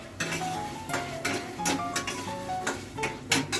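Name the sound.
chicken being stir-fried in a pan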